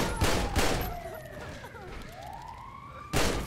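Gunfire in the video game GTA 5, with a few loud close shots at the start and again at the end, and a wailing police siren sweeping up and down between them.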